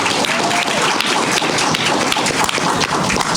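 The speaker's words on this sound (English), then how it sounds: "How about a round of applause for Ann" Dense, steady applause from a conference audience at a housing and health session, loud and sustained throughout with no pauses, a continuous wash of many hands clapping together.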